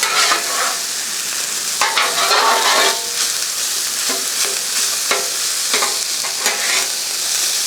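Pork fried rice is stirred on a Blackstone griddle, loud close sizzling broken by repeated spatula scrapes and taps at an irregular rhythm, with no speech.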